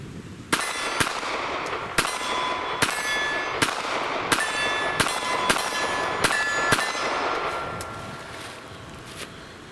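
A Ruger LCP Max pocket pistol fires flat-nose hand loads in a fast string of about ten sharp, loud shots at an outdoor range. Each crack carries a metallic ring, spaced under a second apart at an uneven pace, with no talking.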